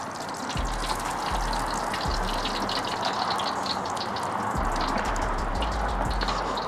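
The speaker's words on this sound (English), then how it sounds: "I'm just gonna let that deep fry for a couple minutes." Soft shell crabs deep frying in oil, a constant dense bubbling sizzle with faint low thumps now and then, close and steady throughout with no one talking.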